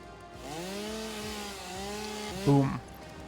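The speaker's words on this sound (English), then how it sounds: "Chainsaw." Chainsaw in the modded video game Satisfactory, a steady buzzing engine drone with wavering pitch that swells into a louder revving burst near the end.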